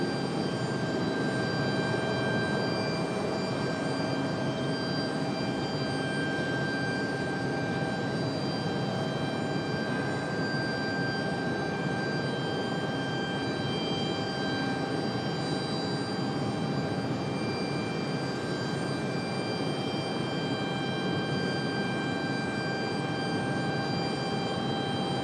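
A Frontier Airlines airliner passes at Raleigh-Durham airport, its engines giving a steady, broad roar that holds evenly throughout without voices.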